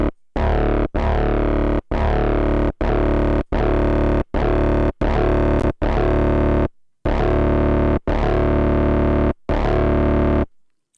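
Repeated synth bass notes, each with a sharp filter envelope sweep giving a chompy, plucked attack, played in a steady rhythmic pattern with short gaps.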